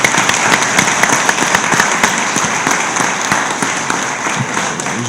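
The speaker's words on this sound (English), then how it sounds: "She deserves a round of applause for leading." An audience at a city freeholder reorganization meeting applauds, a dense, steady patter of many hands clapping close by for the whole stretch.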